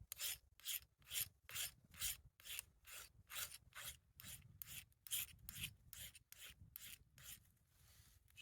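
A blade scrapes magnesium shavings off a magnesium fire starter block in repeated rasping strokes, about two per second, close and crisp with no talking.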